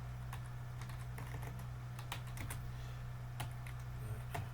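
Rapid typing on a computer keyboard during a malware lab session, irregular bursts of close, crisp key clicks over a steady low electrical hum.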